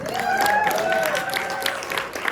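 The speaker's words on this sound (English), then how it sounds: "And yes, we can clap for Jen." A comedy-show audience claps and cheers for the host at a Tuesday-night gig, a dense, steady wash of applause with a voice sounding over it.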